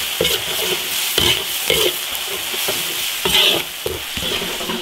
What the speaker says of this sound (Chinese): 再烧点油炒佐料，大料、豆瓣酱、辣椒酱